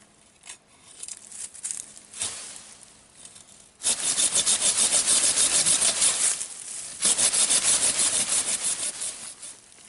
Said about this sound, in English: So if you go ahead and get that sawing